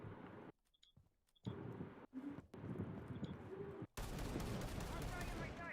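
Automatic shotgun fire in Rainbow Six Siege: rapid, loud bursts of blasts in short clusters, then a dense sustained volley near the end, with faint game ambience between.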